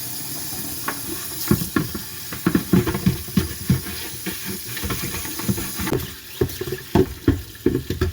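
Water runs steadily from a tap, with irregular splashing and knocking as a chicken water container is rinsed and handled under the stream, fairly close by.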